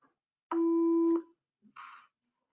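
A phone busy signal sounds during a live video call demo: a steady electronic tone of about half a second, then a brief pause and a shorter buzzy burst, clear and close.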